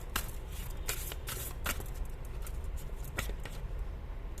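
Tarot cards are handled and shuffled up close, giving a quick series of crisp riffling and slapping bursts across a few seconds with no talk.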